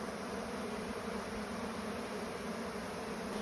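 A massive honey bee swarm gathered in a tree fills the air with a dense, continuous buzzing hum, steady and fairly faint, with no voices.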